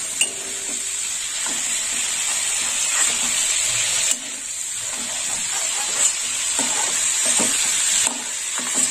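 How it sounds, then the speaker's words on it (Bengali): Prawns fry in a pan for a prawn malai curry, giving a continuous loud hissing sizzle with occasional soft knocks and scrapes, close and steady throughout, with no talk. "সব চিংড়ি মাছগুলো উল্টে দেওয়া হয়ে গেছে, ভাজা হবে।"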